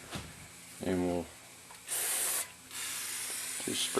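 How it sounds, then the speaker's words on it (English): Cleaner sprays from a bottle onto the edges of a Toyota Matrix transmission pan, three separate hissing bursts of a second or more each, close and clear, with a brief voice between them. "just spray the edges up here a little bit of the pan"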